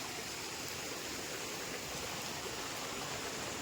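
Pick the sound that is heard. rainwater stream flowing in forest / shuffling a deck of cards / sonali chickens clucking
rainwater stream flowing in forest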